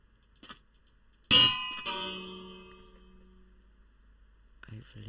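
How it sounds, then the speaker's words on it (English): A single bright clang of a bell in the Minecraft video game, ringing out loud and clear then slowly decaying over a couple of seconds, with a faint click before and another short metallic tap at the end. "And we want the bell."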